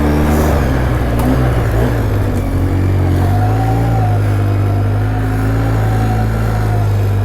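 A 2012 Polaris Sportsman 800 EFI ATV drives across rain-soaked ground on worn tires, its engine a steady, loud, close low drone that holds throughout with slight shifts in pitch.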